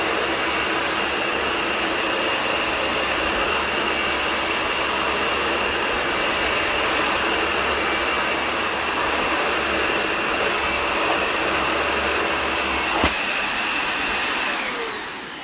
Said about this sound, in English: Sounds like what I would expect a modern Dyson to sound like.